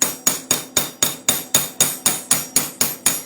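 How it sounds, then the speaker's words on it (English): A chasing hammer's ball peen strikes a metal whale tail pendant in thirteen sharp, evenly spaced metallic taps, each ringing briefly before the next, close and clear with no voices. "Or you could try the chasing hammer, the ball peen part."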